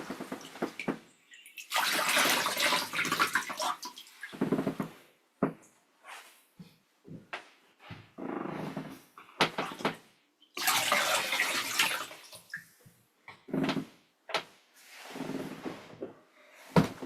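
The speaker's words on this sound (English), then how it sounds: "whilst we just rinse off the foot soaking water" Water splashing and running in several bursts as feet are rinsed off after a foot soak in a basin during a meditation session, with quiet pauses between the washes.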